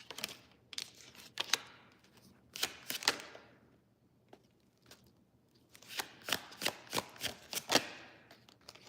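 Tarot cards are shuffled, handled and pulled from a deck up close, with bursts of riffling and crisp repeated card snaps in uneven clusters, with no talking over them.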